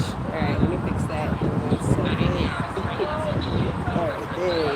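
Gusty wind buffets the microphone outdoors with a steady low rumble, while faint voices murmur underneath.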